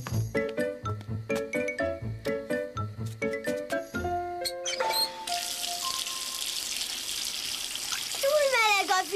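Water gushes from a bath tap into a tub in a cartoon, a steady broadband rush that follows a run of bright plinking musical notes and continues under a short rising tone near the end.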